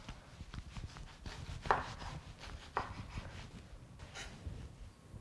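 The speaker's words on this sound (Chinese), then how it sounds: "我哋而家就係切洋葱啦" A knife chops onions on a board in a kitchen, producing soft, fairly quick, repeated thuds with a couple of sharper cuts, fairly quiet and with no talking.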